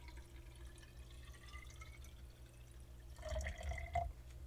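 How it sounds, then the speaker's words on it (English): Bleach poured into a container holding water for a dilute cactus tissue-culture solution, a faint steady trickle that swells into louder splashing and dripping toward the end, with no talking. "And then I'm going to add 200 milliliters of bleach."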